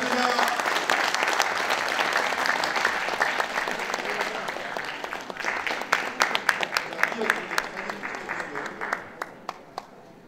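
A crowd applauds at a civic rally in Busan backing the 2030 World Expo bid, the clapping thick at first, then thinning into scattered sharp individual claps that fade out toward the end.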